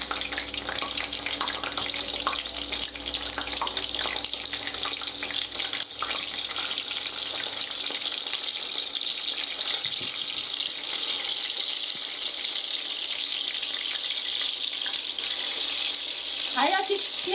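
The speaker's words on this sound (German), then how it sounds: "Die braten wir jetzt außer." Currant dumplings sizzle and spit steadily as they fry in a pan of fat with added water, a continuous close crackling hiss running throughout with occasional brief clinks.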